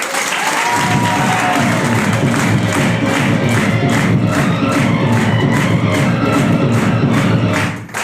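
A large audience at a business event claps and cheers, a loud sustained wall of applause with rhythmic clapping and shouts that runs for several seconds and cuts off at the end.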